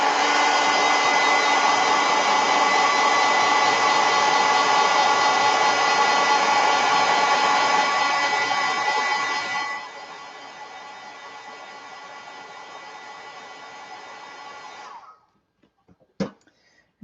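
Steady, loud hair dryer blowing over wet watercolor paint on paper, running continuously before dropping to a lower setting and cutting off, followed by a couple of faint taps.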